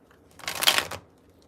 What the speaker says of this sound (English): Just a couple of shuffles.